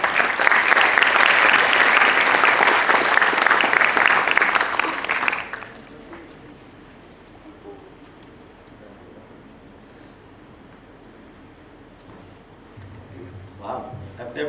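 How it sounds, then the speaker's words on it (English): Audience applause greets an architect's welcome address in a packed lecture theater, a loud sustained wash of clapping for about five seconds that then cuts off to quiet room tone, with faint murmuring near the end. "Please give a round of applause to Architect Harvey Vasquez"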